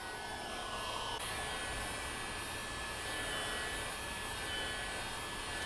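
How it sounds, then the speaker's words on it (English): A heat gun blows continuously while warming adhesion promoter on a Shelby GT350 rock guard, a steady airy roar with a constant fan hiss that stays level and close, with no speech. "Now you could also take the heat gun and accelerate that, which is what I'm going to do here."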